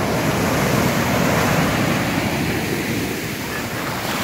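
Continuous roar of ocean surf breaking close by, broad and steady, with wind buffeting the microphone.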